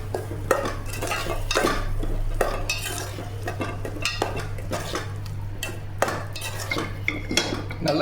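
A green gram curry is stirred in a pot with a metal spoon, giving steady rhythmic scraping and clinking against the pot, close and continuous over a low steady hum.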